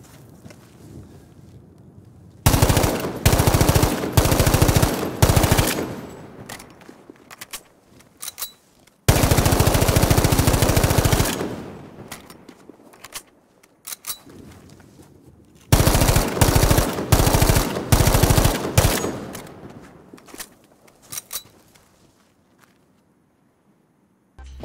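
M2 carbine fire in Battlefield V aimed at a wall: loud, close bursts of rapid automatic shots, first short bursts, then a long sustained stream, then more bursts and spaced single shots, with quiet gaps between.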